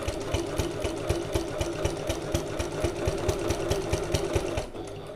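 Sewing machine running steadily along a seam of a Stanley satchel, needle thumping in a fast even rhythm close up, slowing slightly at the very end.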